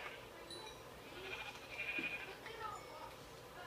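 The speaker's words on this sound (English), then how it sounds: "Okay, where's that other sheep?" A sheep bleats in a Minecraft-style video game, a couple of soft wavering cries over quiet ambient game sounds with a faint background tone.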